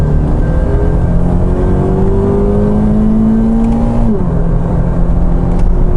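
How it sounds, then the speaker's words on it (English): A Toyota GT86's boxer engine drones steadily and loudly, its pitch climbing as it revs, then dropping abruptly before settling back. "That boxer engine hasn't got the best sound in the world."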